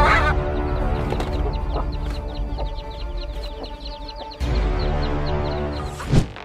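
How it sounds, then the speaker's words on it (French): A hen defending her chicks against a bird of prey lets out loud, repeated squawks and clucks in a rapid, agitated series, with a sharp louder cry near the end and a rough outdoor background. "Cette poule défend ses poussins contre un oiseau de proie"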